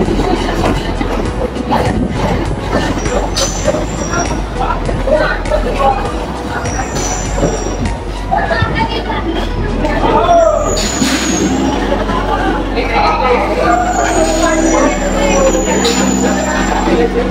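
Kolkata local train arriving at Khidirpur station, a loud rolling rumble with clattering wheels and brake squeals, plus high metallic screeches later on and voices talking over the noise.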